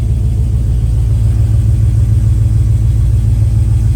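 A restored 1971 Chevrolet Cheyenne Super K20 truck engine runs at a steady, even idle, a close, loud, low rumble with a regular pulsing beat and no voices.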